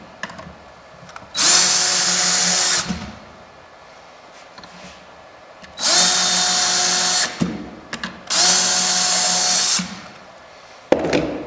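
A power drill whirs in three loud bursts of a couple of seconds each while drilling a hole during a door installation, with quieter handling noises and clicks in the gaps between them.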